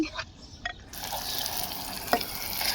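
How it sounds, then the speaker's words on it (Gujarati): Chopped onions tipped into fully heated oil for a vegetable gravy, a soft drop followed by a steady, close sizzling hiss of frying with a brief louder clatter partway through. "હવે ચોપ કરેલી ડુંગળી આપણી છે એ ઉમેરી દઈશું।"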